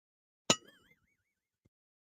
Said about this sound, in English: ding that bell.